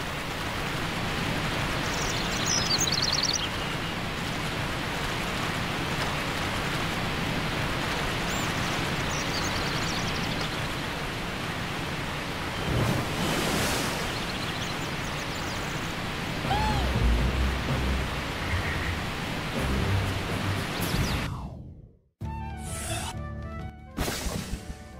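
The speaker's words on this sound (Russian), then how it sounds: "Красивые водопады." Waterfalls in the Zanzarah video game, a dense continuous rushing roar of falling water that stays loud and even for most of the stretch before cutting out abruptly near the end, followed by a few brief sounds.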